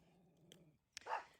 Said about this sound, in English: these dogs are harassing my dad's dog, Dabs, who is so patient.